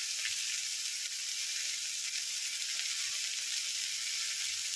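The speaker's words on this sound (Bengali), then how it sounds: "এইবার এটাতে আমি এটা এরকম ভাবেই কষাতে থাকবো" Masala okra (bhindi) sizzles steadily in a pan, a constant bright hiss of frying with faint stirring under it and no voices.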